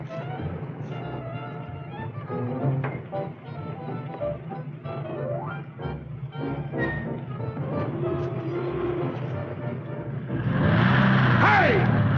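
A car tears past in a 1940s film scene, engine noise rising to a loud roaring surge near the end, with people talking over the rumble beforehand.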